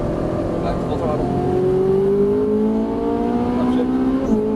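A Ferrari 458 Italia pulls at full throttle on the Exotics Racing track in Las Vegas, its engine note climbing steadily in pitch as a loud, close, continuous roar.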